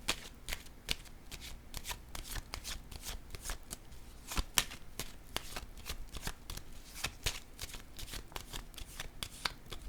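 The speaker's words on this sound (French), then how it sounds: "je vais déposer une carte sur triomphe à l'envers" Tarot cards are shuffled and laid down in a steady run of crisp riffles and soft slaps, close and clear with no talking.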